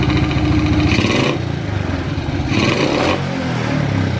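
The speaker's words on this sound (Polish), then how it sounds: "Ale tak słychać, jakby korba miała lekki luz." A Ogar 900 moped engine with a loose crankshaft runs loudly and close, idling and revving in two surges with a rough, clattering knock underneath.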